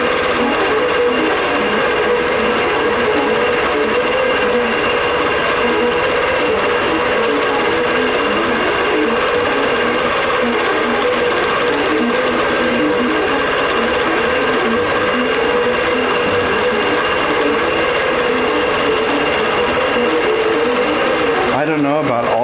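A sewing machine fitted with a couching foot stitches yarn onto a Christmas-tree winter table runner, a steady, loud, continuous mechanical whir that runs unbroken for the full length and stops abruptly at the end.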